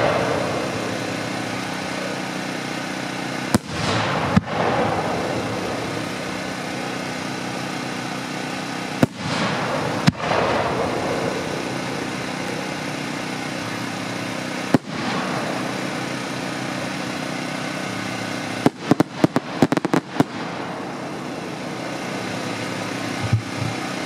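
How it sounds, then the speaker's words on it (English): Large 6-inch Young Fang aerial shells from an A assortment bursting at a pyrotechnics demo, with a sustained crackling roar broken by several sharp booming reports, a dense cluster of rapid bangs near the end. "Next up, we have some 6-inch Young Fang shells out of the"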